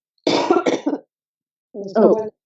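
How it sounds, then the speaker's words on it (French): Two separate bouts of coughing, a harsh burst of several coughs followed by a pause and then a shorter, throatier cough, close and loud. "La guerre, ça me fait tousser chaque fois"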